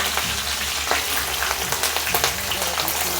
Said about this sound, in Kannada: ಎಣ್ಣೆಗೆ ಫಸ್ಟೇ ಮೆಣಸಿನ್ಕಾಯಿನ ಫ್ರೈ ಮಾಡಿ